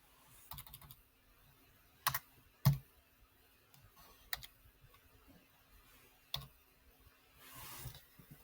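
Someone types on a computer keyboard in a quiet room. Soft scattered key taps are broken by a few sharper, louder clicks, with no voices.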